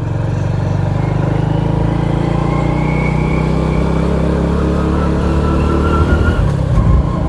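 A motorcycle rides along a village road, its engine droning loudly and steadily with wind rush throughout, a slight rise in engine noise near the end.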